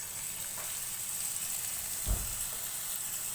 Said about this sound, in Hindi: प्याज को ऑयल में हल्का सा फ्राई कर लेंगे।